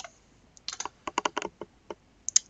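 Typing on a computer keyboard, with a quick burst of close, crisp keystrokes in an uneven rhythm and a sharp click at the end, with no talking.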